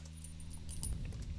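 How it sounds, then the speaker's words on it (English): Soft metallic jingling of small coins shaken together in short clustered bursts, fairly quiet and close. "So this one is some coins,"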